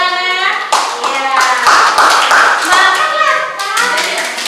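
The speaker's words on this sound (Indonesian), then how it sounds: "Iya, tepuk tangan." Classroom of students clapping hands during a chemistry lesson on oxidation numbers, a dense burst of claps running throughout with children's voices and chatter mixed in.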